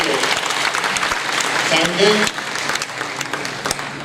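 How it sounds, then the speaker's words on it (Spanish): Audience applause at a church worship night, dense steady clapping across the whole clip with a voice speaking over it near the end. "Un aplauso a todos, ¿verdad?"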